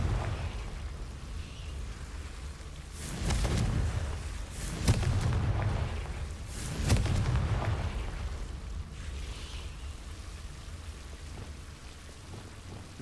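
In the video game Hogwarts Legacy, the Confringo blasting spell sets off about three heavy, roaring explosive bursts in close succession over a soft rushing background.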